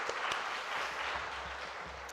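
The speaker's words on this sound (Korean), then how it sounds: "우리 하나님께 영광의 박수 올려드리도록 하겠습니다" A church congregation applauds during a Sunday morning worship service, a steady, dense wash of clapping that holds evenly throughout at a moderate level with no voices over it.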